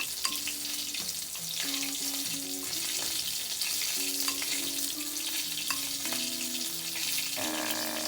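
Chicken of the Woods mushrooms, floured and egg-dipped, frying in a pan with a steady bright sizzle throughout, alone without talk, with faint clinks of handling in the background.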